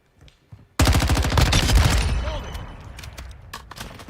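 Chimera assault rifle firing in Call of Duty Modern Warfare II, a loud sustained burst of rapid gunfire starting abruptly after a brief quiet, then tapering into scattered shots and game effects.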